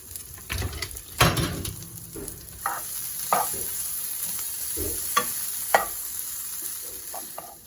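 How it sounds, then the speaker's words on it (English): Vegan buffalo dip with sage and garlic herb seasoning sautés in a pan, a continuous hiss of sizzling broken by a few spoon scrapes and knocks, close and moderately loud. "I'm just going to let this saute for a couple more minutes and turn this off"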